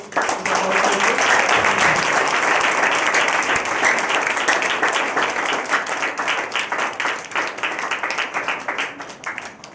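A church congregation at a sermon gathering bursts into loud, full applause that gradually settles into a steadier, rhythmic clapping pattern, with a voice briefly audible early on.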